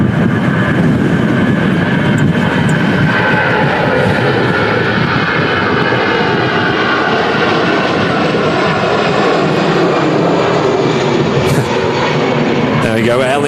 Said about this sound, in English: There we go, Aer Lingus A320 heading back to Dublin